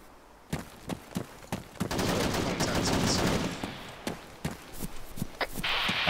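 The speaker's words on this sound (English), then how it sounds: "Enemy small arm fire, where did that come from?" Small arms gunfire in Arma 3 crackles as sharp single shots spaced irregularly, with a denser burst of sustained firing in the middle, distant and moderately loud with no talking.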